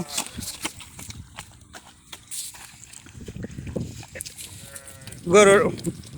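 Sounds of a large cow for sale amid people talking nearby, with shuffling hooves and a clear loud moo near the end.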